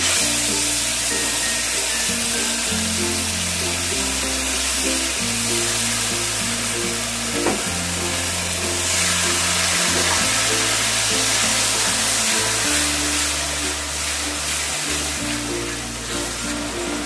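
Tomato paste hits hot spiced oil in a pan while an echor chingri curry cooks, giving a loud, steady sizzle that runs on without a break. Occasional stirring scrapes sit close in the mix.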